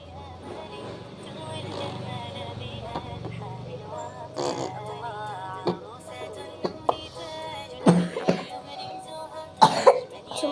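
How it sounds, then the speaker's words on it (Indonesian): A person has a coughing fit after trying a camera filter, several sharp, close coughs coming in irregular bursts, mixed with talking and laughter. "Kayaknya aku lagi batuk."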